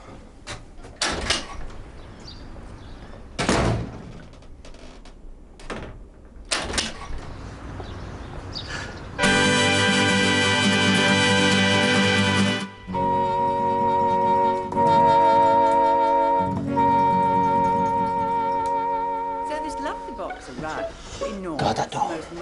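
A door is worked with knocks and bangs, followed by a long, loud rattling ring or buzz that runs on for several seconds, while people talk throughout.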